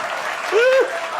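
Clapping from an audience at a Hindi poetry recital, a brief burst of scattered hand claps with a short vocal whoop or shout rising over it.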